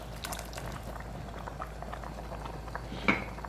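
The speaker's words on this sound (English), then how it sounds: "I'm going to cover this and allow it to boil for a bit before adding the meat stock." Rice boils in a covered pot as minced beef fried rice is made. A soft, steady bubbling simmer runs throughout, quiet and close, with one brief louder pop near the end.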